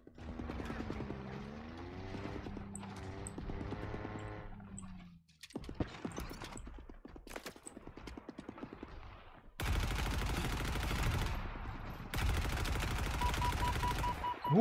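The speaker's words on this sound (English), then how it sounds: "Kdo po mně střílí, pro boha? Já jenom vidím výbuchy." Bursts of Halo Infinite gunfire and mechanical weapon clatter come in rapid rattling volleys, moderately loud, with gaps between sections and a tonal game sound early on.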